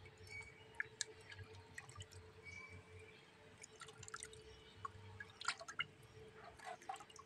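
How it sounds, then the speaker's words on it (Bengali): Fish roe washed gently by hand in water, a faint close-up run of soft drips, splashes and light squishing in uneven bursts over a low background hum, with no talking. "মাছের ডিমগুলো এখন জলে ধুয়ে নেবো। আস্তে আস্তে করে হালকা হালকা করে ধুয়ে নেবো"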